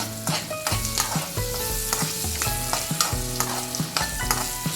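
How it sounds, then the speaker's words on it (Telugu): Ground black pepper fries in hot tempering oil for foxtail millet pongal, giving a loud, dense crackling sizzle up close, punctuated by rapid repeated stirring taps against the pan. "ఆ మిరియాల పొడి వేసి వేయించుకుంటున్నాను"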